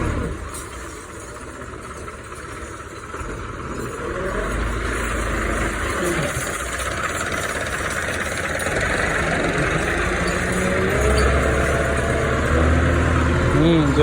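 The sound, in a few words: tractor engine running while filling soil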